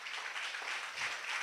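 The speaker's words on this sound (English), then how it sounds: "I would like them to please clap for themselves" Applause from a community gathering in Makoko, Lagos, at a clean cookstove distribution event: a soft, distant patter of many hands, brief and faint.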